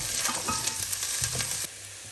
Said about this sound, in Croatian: Ja sam sipala ulje, zagrijala se i prvo ćemo propržiti malo crni luk.